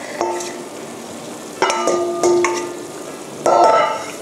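Boiled flour dough for a Thai sweet, khanom tom daeng, is tossed in sugar, giving a few close, distinct scraping and clattering strokes separated by quieter pauses, with no talking.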